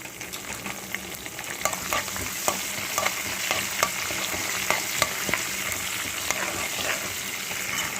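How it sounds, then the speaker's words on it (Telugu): Green chillies frying with spices in tempering oil for a gongura mealmaker curry, a steady sizzle punctuated by frequent sharp crackles and spatters, close and continuous. "ఈ పోపుతో పాటు ఈ పచ్చిమిరపకాయలు కూడా వేగాలి."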